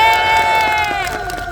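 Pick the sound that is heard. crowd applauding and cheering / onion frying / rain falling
crowd applauding and cheering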